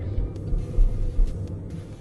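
A Land Rover Defender 110 Commercial creeps down a steep, roughly 37-degree rocky descent, giving a low, uneven rumble of engine and tyres with a few faint knocks and bumps.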